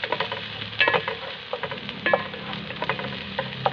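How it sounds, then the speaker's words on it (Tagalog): Onions, both white and red, sautéing in oil in a pan for a sizzling chicken dish, with steady close frying crackle and repeated stirring scrapes throughout, no talk. "Simulan na natin yung paggigisa."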